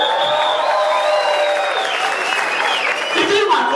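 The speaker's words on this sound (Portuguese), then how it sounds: "Quando a piada for muito boa, vocês podem aplaudir, tá?" Audience applause at a drag comedy show in a club, a steady dense clapping that fills the whole stretch at fairly loud level, with some crowd noise mixed in.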